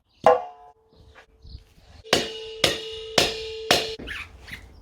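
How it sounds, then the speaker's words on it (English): A mallet strikes a pipe wrench braced with a piece of wood to loosen the tap on an old propane tank. One sharp ringing blow is followed after a pause by four loud metallic hits in a steady rhythm, each with a brief clang, and no speech. "using a pipe wrench, a mallet and a piece of wood, this is my expert technique"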